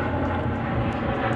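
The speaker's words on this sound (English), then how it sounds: "getting drowned out by that airplane" An airplane passes overhead with a steady, broad engine roar that holds at a constant level from start to finish, with no talk.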